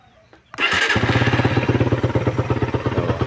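A motorcycle engine in a repair shop cranks and catches, then settles into a loud, steady idle with a rapid even chugging pulse, close by.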